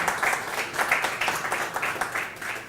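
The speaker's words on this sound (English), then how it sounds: "Give him a round of applause, John." Steady applause from a crowd, many hands clapping at a brisk rhythm for a few seconds, moderately loud and close, with no voices on top.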